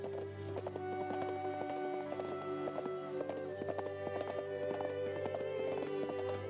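Horse hooves clip-clopping at a trot in a 1978 Mexican film scene, a steady run of hollow hoof knocks over a low hum, with faint background murmur.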